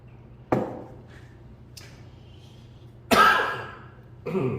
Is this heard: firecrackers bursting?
no